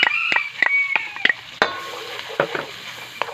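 Garlic hitting melted margarine-like butter in a pan, with a sizzle and a run of sharp metallic clinks and scrapes from stirring, close and brief.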